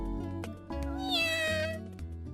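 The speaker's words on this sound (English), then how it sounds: "It's the cat Michiru has been doting on lately." A cat from the visual novel The Fruit of Grisaia gives a single drawn-out meow that rises and falls, clear and close, over soft background music.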